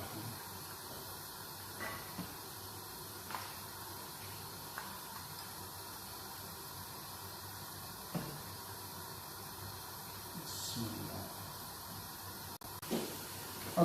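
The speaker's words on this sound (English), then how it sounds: "now I'm going to start deep frying the veg pakora" Vegetable pakora deep fry in hot oil, giving a steady hissing sizzle with occasional soft pops and clicks, fairly quiet and without talk.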